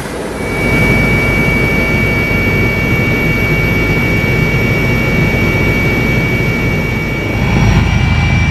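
Loud, steady roar inside a helicopter cabin in flight over Bihar, a dense, unbroken engine and rotor drone that fills the whole stretch, with a slight dip and swell near the end.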